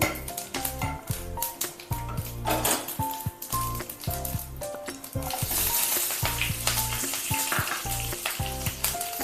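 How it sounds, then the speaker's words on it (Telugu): Green chillies fry in oil for a cucumber and brinjal roti chutney, crackling in a bright, continuous sizzle with occasional stirring, all under background music. "ఇలా పచ్చిమిర్చి దోరగా వేగిన తర్వాత"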